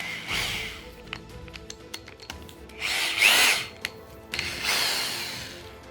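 A power drill with a hole saw whirs in short bursts through wood, rising to a louder grinding stretch in the middle and again near the end, with small knocks between.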